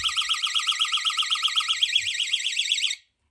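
A security door stopper alarm on medium sensitivity sounds a loud, shrill warbling siren, rapidly pulsing up and down for about three seconds before cutting off abruptly.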